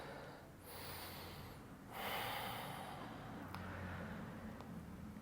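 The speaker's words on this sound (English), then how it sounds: "Take a couple of deep breaths." Deep breaths drawn during a leg and glute yoga class, two broad breathy swells of inhale and exhale, soft and close, with faint background hum and no talking.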